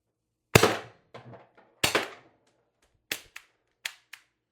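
A TR50 Torpedo gun powered by a 12 gram cartridge fires several sharp, loud cracks at irregular intervals, with softer clicks and small pops between the shots.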